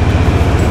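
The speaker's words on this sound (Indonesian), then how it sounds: "Nah, ini kereta kita." A sleeper train at Hatyai Junction station gives a loud, steady low rumble and hum, continuous and close for a brief moment with no voices.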